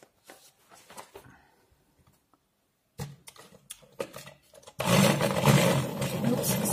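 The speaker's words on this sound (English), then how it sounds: "That's the dollar sharpener." Cheap manual pencil sharpener grinding a colored pencil, a close, dense rasping burst that starts abruptly after quieter handling noises and fills the last couple of seconds.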